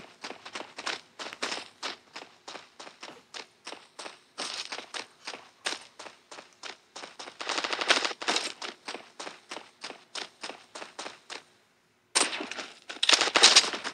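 Gunfire in the shooter game Warface: long runs of sharp, rapid shots crackle steadily, pause briefly near the end, then resume in a denser, louder burst.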